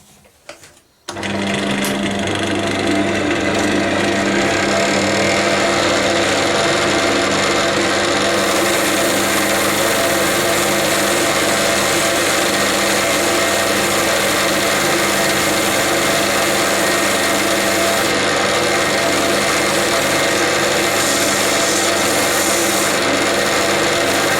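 Wood coated with home-mixed shellac polish gets buffed, a loud continuous mechanical whirring drone that starts abruptly and holds steady throughout, close up.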